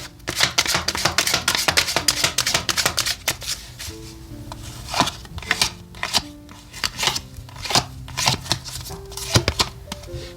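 Tarot cards being shuffled and drawn by hand, with close, crisp riffling bursts and sharp snaps of cards that recur irregularly over soft sustained background tones.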